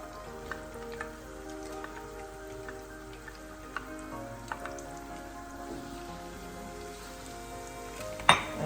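Chopped onion sizzles in melted butter for Italian-style tripe, a steady crackling fry with scattered pops and a few stirring clicks, ending in a louder clatter near the close.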